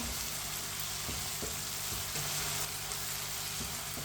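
Spices fry gently in a pan over low heat with a continuous soft sizzle and hiss, faint and steady, with a few small clicks of stirring.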